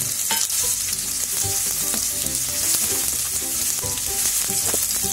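Onions and slit green chillies frying in hot oil in a pan, a dense, steady close sizzle with scattered crackles and stirring clinks throughout, no talking.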